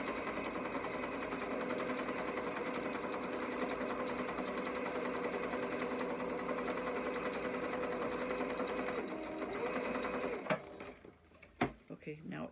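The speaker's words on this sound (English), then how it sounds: "Put it on zigzag, and then I zigzag it" Continuous whirring drone of a sewing machine zigzag stitching fabric, steady and close for about ten seconds, then stopping, followed by a few handling clicks and knocks.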